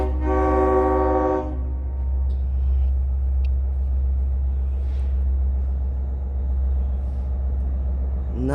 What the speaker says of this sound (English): Look at that locomotive